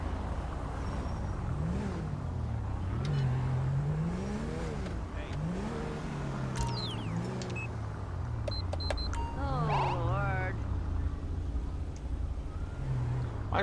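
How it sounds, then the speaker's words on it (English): A car engine revs in the GTA V police mod LSPDFR, with repeated rising and falling revs running steadily under the traffic ambience, joined by a few brief electronic beeps and squeals near the middle. "I don't know why they're revving."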